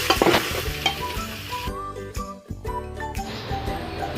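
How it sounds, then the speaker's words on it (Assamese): Green peas fry with ground dry spices in a pan over low heat, a bright steady sizzle broken by scraping stirs and a few metallic clinks of the spoon, close and loud without speech. "এনেকৈ মটৰখিনি কম জুইতে অলপ সময়লৈকে ভাজি থাকিলোঁ"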